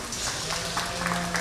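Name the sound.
audience applauding livestock show exhibitors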